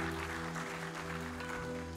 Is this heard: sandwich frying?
no